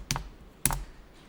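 Computer keyboard keys pressed while entering accounting data: two distinct, close taps about half a second apart, sharp and dry, with no talk.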